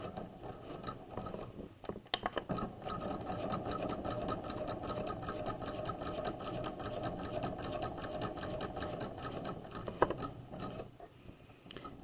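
A sewing machine stitches a flat collar in a steady, even mechanical whir with a soft rhythmic clatter, close but fairly quiet, and a couple of brief clicks along the way.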